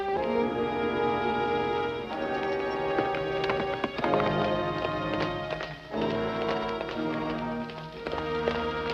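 Horse hooves clip-clopping in an old adventure film, quick repeated hoofbeats running under a music score with no clear voices.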